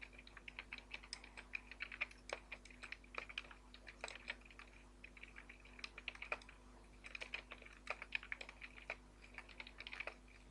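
A computer keyboard being typed on during PHP pagination coding: steady, quick clicking keystrokes with irregular bursts and short pauses, close-up but quiet over a low constant hum, with no talking.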